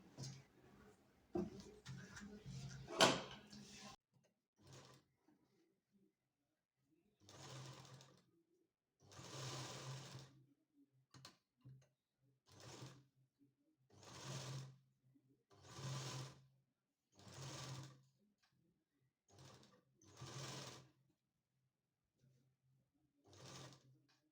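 A sewing machine stitches lace onto a belt blouse in repeated short whirring runs of one to two seconds, separated by quiet pauses, after some rustling handling of the fabric.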